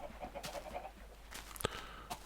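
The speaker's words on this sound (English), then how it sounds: "Chickens." Chickens clucking in the video game Minecraft, a few soft, scattered clucks over a faint background hum, quiet and somewhat distant, without talking.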